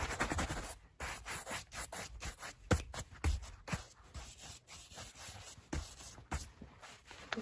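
Shoe polish is rubbed into a boot with repeated quick strokes, a close, dry scratchy brushing rhythm with brief pauses and no talking.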